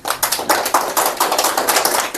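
A small audience clapping hands in a steady, fairly quick rhythm at a talk in Namchi, Sikkim, close and crisp with no talking over it.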